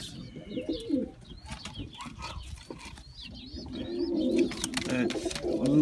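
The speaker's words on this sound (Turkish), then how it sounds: "Kuşlarımız da burada. Yavrular." Pigeons coo repeatedly in a backyard coop, with the young birds kept there and a male nearby, the soft throaty calls joined by scattered chirps, moderately close and steady, getting fuller and louder toward the end.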